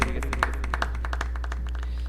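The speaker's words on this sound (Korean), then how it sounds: "하나님께 영광의 박수 돌려드리겠습니다" A congregation at a Full Gospel church Sunday service claps, giving a quick run of sharp, fairly even claps over a steady low hum in the room.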